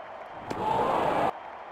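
A stadium crowd in the Real Cricket video game breaks into a short burst of cheering, a loud roar lasting under a second before cutting off abruptly.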